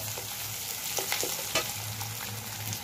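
Small and large onions with dried red chillies fry in a pan, a soft steady sizzle with light stirring scrapes, close and fairly quiet.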